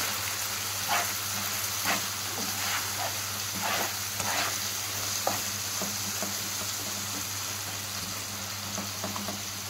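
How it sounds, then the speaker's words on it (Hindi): Tomato masala for stuffed karela fries on a high flame, a steady sizzle with repeated scraping strokes of a spoon against the pan and a low background hum. "अब हम इसे इस तरह 5 मिनट भून लेंगे तेज आंच पे।"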